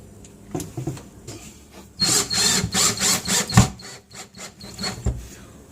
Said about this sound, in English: Let's get these screws in.